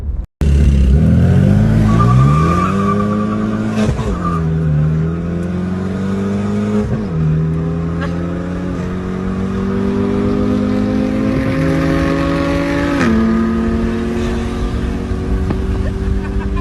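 A loud supercharged 3-liter V6 race car engine drones and climbs steadily, with several gear shifts as the pitch rises again and again.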